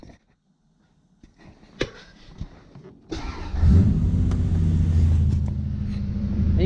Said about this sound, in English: you can see we're idling like at 1500 RPM